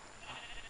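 A sheep in the Minecraft video game gives a brief, faint bleat, a short wavering animal call standing alone without speech.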